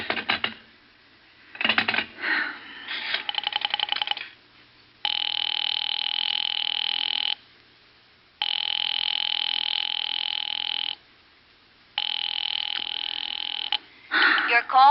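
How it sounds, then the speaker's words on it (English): An old rotary telephone in a radio drama being dialed with clicking bursts, followed by three long repeated busy-signal tones separated by short gaps, then a brief warbling effect. "I've been dialing Murray Hill 70093 now for the last 3/4 of an hour, and the line is always busy."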